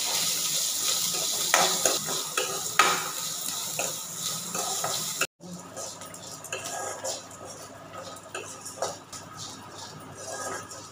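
Chopped big onion and garlic sautéing in a kadai for cabbage chutney, giving a soft frying hiss with spoon scrapes and pan knocks; the sound briefly cuts out midway, then resumes at a similar level.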